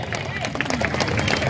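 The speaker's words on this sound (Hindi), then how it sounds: "जरा जोरदार तालियां बजाएंगे।" Crowd clapping at a Sai Baba bhajan festival, a dense, steady patter of many hands close by, mixed with murmuring voices and speech.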